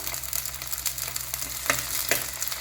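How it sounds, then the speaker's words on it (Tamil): Small onions with curry leaves and ginger-garlic paste sizzle steadily in a pan for a mutton gravy, a continuous close frying hiss with a few brief stirring scrapes and no talk. "வெங்காயம் ஓரளவு வதங்கிச்சு பாருங்கள்"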